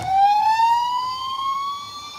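A toy fire truck's electronic siren wails, a single rising tone sweeping upward, close and loud, sounding alone without any talk.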